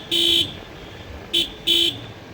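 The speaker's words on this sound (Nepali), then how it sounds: "यहाँ कत्रो हर्न बजाउने नि यसले।" A vehicle horn honks on a road in three blasts, one long and two short, loud and near, over faint traffic rumble.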